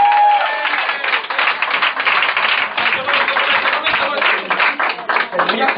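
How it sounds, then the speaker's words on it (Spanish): Applause and clapping swell from an audience at a stage performance, a dense patter of many hands lasting throughout, with voices talking and calling out over it. "pedir un fuerte, fortísimo aplauso para Rufo"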